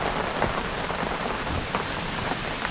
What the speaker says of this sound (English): We can either stay dry out here and watch the rain